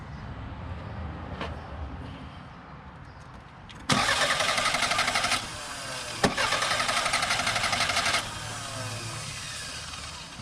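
Toyota Camry engine cranking during a compression test: two steady, loud starter-motor cranking runs of a few seconds each, close up, with no catch or start and no talk.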